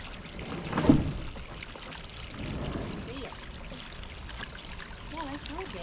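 Water trickles and pours into a small, newly installed backyard pond. It makes a soft, continuous splashing, with one louder gush near the start and faint voices in the background.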